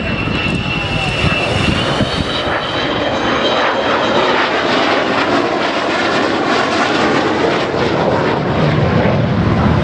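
An Avro Vulcan jet bomber roars overhead at the Dunsfold airshow, a loud, dense, sustained jet rumble filling the whole stretch with no break.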